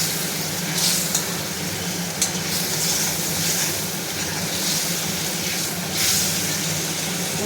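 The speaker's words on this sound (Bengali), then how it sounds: "মশলাটা দিয়ে দিলাম একটু কষিয়ে" Spice paste sizzling and being stirred in a pan for a thin hilsa fish curry with brinjal, a steady close frying hiss with occasional scraping strokes, no voices.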